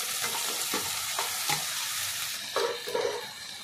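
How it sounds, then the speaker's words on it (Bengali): New potatoes and white eggplant hit a pan of onions already fried red, giving a steady crackling sizzle with scattered utensil scrapes and clinks from stirring, close up and with no talk. "এবার কেটে নেওয়া তরকারিগুলো দিয়ে দেবো।"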